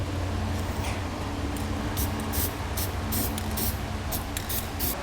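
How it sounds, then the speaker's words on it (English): A spray paint can hisses in short, repeated bursts over a steady low hum, close up and fairly loud, with brief gaps between sprays, coating bare metal cut edges in a 2017 GMC Sierra 2500 pickup wheel well. "we'll take some spray paint and go along the inside edge where our bare metal is"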